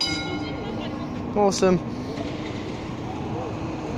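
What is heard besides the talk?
Melbourne tram leaving the stop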